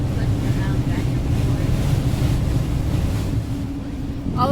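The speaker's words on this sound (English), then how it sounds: "trucks are pulling over because it's really windy." Strong gusty wind buffets a vehicle driving on Route 395 toward Death Valley, a steady, loud low roar of wind noise filling the cabin without pause.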